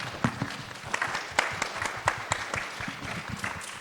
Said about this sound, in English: Maybe we could do another round of applause on that note.